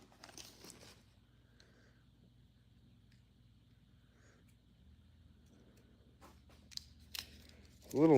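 A wrapped toy package is unwrapped, with a burst of crinkling paper at the start, then quiet, scattered rustles and small tearing sounds building to a loud crinkle at the end.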